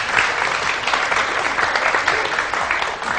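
Loud, dense studio audience applause on a Pakistani morning television show, continuous clapping from many hands with a slight roomy wash, no voices over it.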